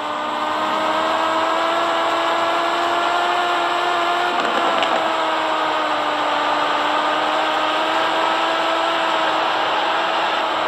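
A motorcycle engine in the Roblox video game drones steadily and loudly, holding a constant pitch with a slight dip midway, alone without talk.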